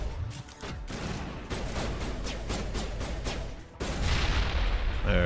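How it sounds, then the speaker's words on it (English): Grenades go off during combat in Mass Effect Legendary Edition. Heavy blasts and crackling weapon fire fill the scene, with a sharp cut near the end into a louder, rumbling burst, all fairly close and with no voices. "That's what my grenades do."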